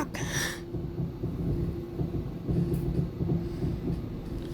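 A cog railway train runs toward Štrba in the High Tatras, its steady low rumble and rolling clatter filling the whole stretch with a brief higher hiss near the start.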